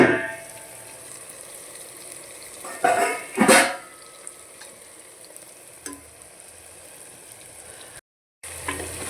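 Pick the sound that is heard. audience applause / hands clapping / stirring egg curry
stirring egg curry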